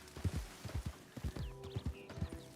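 Horse hooves in the video game Red Dead Redemption 2 clip-clop close by in a steady walking rhythm, each step a distinct thud, with faint birdsong in the background.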